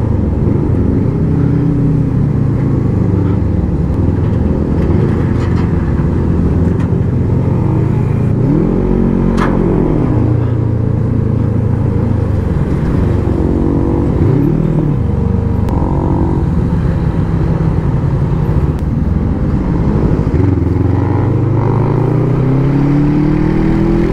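A motorcycle engine revving up close and loud, with repeated rising and falling surges of revs over a steady rumbling idle and one sharp click partway through, and no voices.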